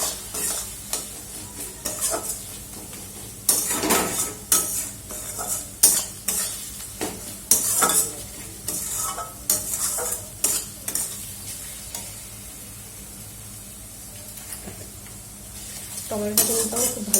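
Lote fish frying with turmeric, tomato and spices in a pan, a sustained sizzle broken by repeated scraping and clinking strokes of a spatula against the metal, close and busy, with no voices.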